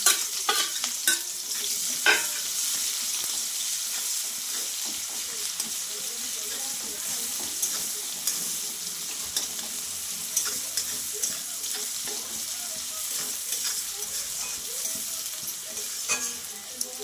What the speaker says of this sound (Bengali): ফোড়নটা হয়ে গেছে, আমি পেঁয়াজ কুচানোগুলো দিয়ে দিচ্ছি।